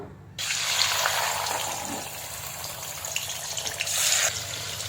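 Chicken liver dropped into hot oil for a liver masala, a steady broadband hiss and sizzle starting abruptly after a brief quiet moment and holding loud, swelling slightly near the end.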